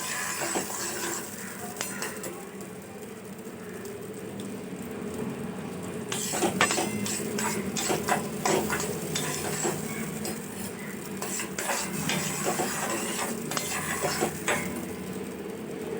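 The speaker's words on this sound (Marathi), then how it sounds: "मसाला टाकल्यानंतर हे असं परतून घ्यायचं मिक्स करायचं व्यवस्थित छान मसाला तेलामध्ये तेल सुटेपर्यंत परतून घ्यायचा" Masala for matar paneer sautéed in oil in a pan, with soft steady sizzling beneath repeated scraping and clinking of a spoon against the pan, close up, with no talking.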